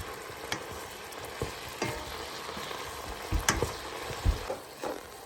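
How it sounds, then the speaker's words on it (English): Pork cooks in a pot and is stirred: a soft, constant simmering hiss with scattered spoon scrapes and clinks against the pot, quiet and close. "I'm just gonna stir it a little bit and cook for a few more minutes before I drain off."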